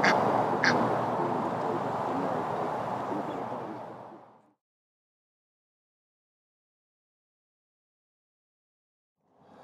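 A single duck wandering a carp fishery lake in summer quacks repeatedly and loudly at close range for about four seconds, then falls silent.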